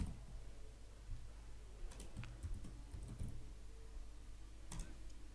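Python code being typed on a computer keyboard: faint, irregular key clicks over a low steady hum, with a few sharper taps standing out.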